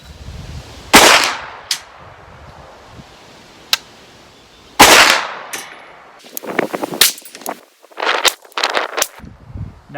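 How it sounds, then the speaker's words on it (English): A POF Phoenix 9mm sub gun fires 115 grain full metal jacket rounds for a 5-shot group, loud sharp reports spaced apart, each followed by clattering and handling noise, with no talking. "let's shoot the first group with 115 grain"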